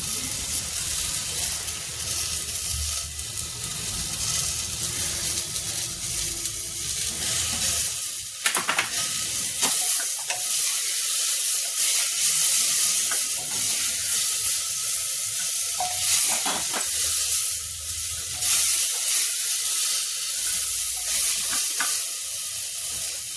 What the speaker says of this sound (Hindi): अब डालते टमाटर।